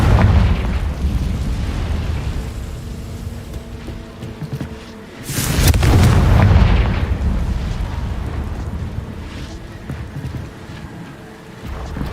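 A Confringo blasting spell explodes in the video game Hogwarts Legacy, one deep booming burst in the middle of rumbling game ambience, followed by a crackling, fading tail.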